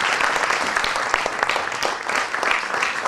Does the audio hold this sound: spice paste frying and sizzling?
no